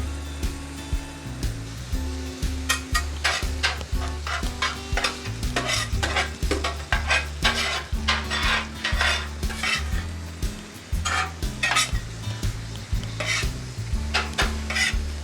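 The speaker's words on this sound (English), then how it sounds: "Mix that up and we'll let it cook down." Chili sauce cooking on a griddle, stirred and scraped with a metal utensil in a steady rhythm of clanks and scrapes over a continuous sizzle, close and fairly loud.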